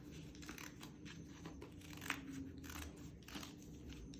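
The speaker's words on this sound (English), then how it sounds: "So I start down here and I cut around and I cut some more." Scissors snip through folded paper to cut out a heart shape, giving a quiet, steady run of soft crisp cuts with one sharper snip near the middle.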